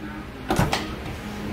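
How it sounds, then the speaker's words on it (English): A door on a 1978 Power Wagon truck swings shut with a single short, solid thunk and a brief rattle, close by, in a quiet garage setting with no talking. "Make sure the door shuts easy."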